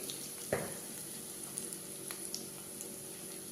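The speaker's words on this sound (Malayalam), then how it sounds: "മഞ്ഞളുടെ പൊടി നന്നായി ഇളക്കാം" A quiet, steady sizzle of chilli and turmeric powder frying with ginger, with one soft stir and a few faint clicks, close by and without talking.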